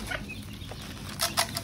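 Chickens cluck softly nearby as feed is poured for them, a few brief clucks and rustles over steady low background noise.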